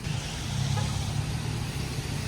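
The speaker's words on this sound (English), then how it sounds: "I don't know how many cars are going through this intersection at one time" Steady, dense roar of car traffic at a busy intersection in Mérida, Mexico, a continuous low engine and road rumble with no breaks, close and fairly loud.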